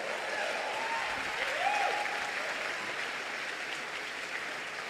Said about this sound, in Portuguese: vai aplaudir